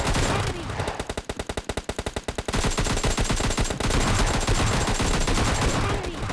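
Rapid automatic gunfire bursts loudly in a PUBG battle, a fast rhythmic string of shots followed by dense continuous firing and impacts.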